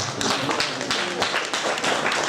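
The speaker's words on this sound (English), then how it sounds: "just give Jesus Christ a round of applause on his behalf" Church members in a Cherubim and Seraphim service break into a round of applause, dense rapid hand clapping with a few stronger claps standing out, close and steady throughout.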